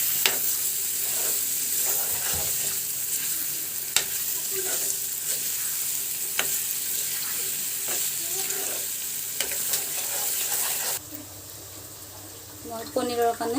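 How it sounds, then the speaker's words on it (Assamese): Curd poured into a hot pan for a paneer curry sizzles and fries steadily throughout, with clinks and scrapes of stirring, then the sizzle quiets near the end as a spoon knocks. "ইয়াতে মই এতিয়া মোৰ ৰাখি থোৱা দৈখিনিও দি দিছোঁ।"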